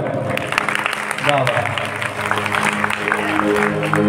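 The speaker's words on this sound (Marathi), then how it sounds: "एकदा जोरदार कडकडाट होऊन जाऊ द्या तुमच्या टाळ्यांचा" An audience claps loudly and continuously at a devotional music program, the applause mixed with an amplified voice and music throughout.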